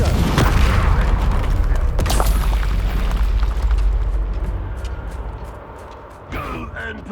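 A Confringo fire spell bursts in Hogwarts Legacy with a heavy booming explosion up front, followed by a second blast and a rumbling, crackling tail that fades out, then a short sharp magical flare near the end; a voice speaks over it.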